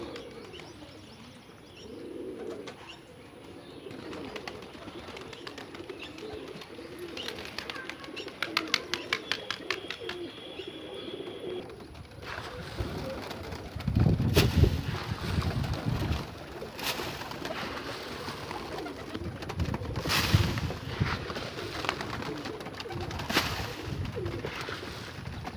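Several pigeons coo softly in a loft among a sick chick, low murmuring calls with scattered chirps and some louder thumps and rustles later, fairly faint and with no speech.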